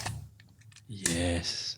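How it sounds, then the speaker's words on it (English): Manual film wind-on of a battery-free film camera: a brief click, then a ratcheting mechanical whir of the lever advancing film, close and distinct. "and this is the sound of the wind on."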